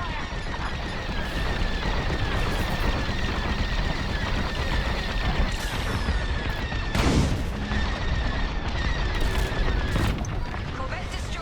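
Heavy blaster fire in a Star Wars Squadrons space battle rattles in dense, rapid bursts over continuous engine and combat noise, with a sharper close blast partway through.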